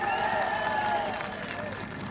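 Clapping from a crowd at a political election rally in Andhra Pradesh, a dense steady patter of many hands with raised voices mixed in, fading slightly toward the end.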